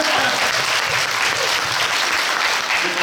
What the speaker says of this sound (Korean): 근데 정말로 박수 한번 주시고요